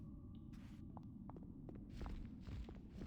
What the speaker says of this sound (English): I hear stomping around over there.